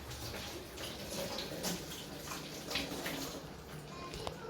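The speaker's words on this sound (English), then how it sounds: "Then I'll get my green pepper. Not to forget to wash it up." Tap water runs steadily over a green pepper being washed in a sink, a continuous hiss with faint splashes and drips, close and moderately quiet.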